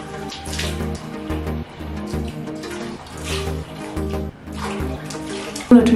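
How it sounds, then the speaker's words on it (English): Running water from a tap while a face is rinsed, a steady splashing wash with fluctuating hiss and small splashes over several seconds, fairly close. "So I'm going to just rinse my face."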